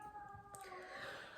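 A faint, drawn-out cat meow rises and wavers over quiet background, a single plaintive cry heard from a short distance.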